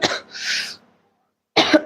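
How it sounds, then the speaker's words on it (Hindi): A person with a sore throat coughs close to the microphone: one short, harsh cough, about a second of silence, then a second rough cough, loud and with no talking. "गला खराब होने की वजह से खांसी आ रही है।"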